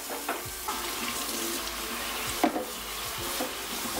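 Tap water runs steadily into a sink while carrots are rinsed under it, with soft splashes and occasional knocks of the carrots throughout.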